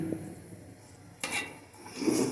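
Pots, pans and utensils clink and scrape in a home kitchen while biryani is cooked, a low steady rattle with a sharper metallic clatter near the middle and louder stirring toward the end.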